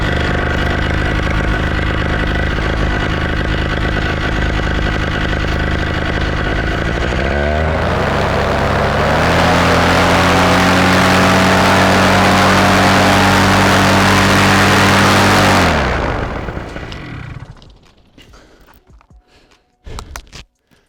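A Scout paramotor engine drones loudly at a steady warm-up speed, then rises to a harsher, higher full-power roar before cutting off abruptly, leaving faint rattles.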